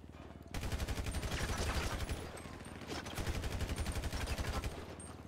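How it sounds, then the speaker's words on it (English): Gunfire on a street in GTA, two long sustained bursts of rapid automatic shots, loud and close, separated by a brief dip, with a faint click at the start. "Oh, they shooting that."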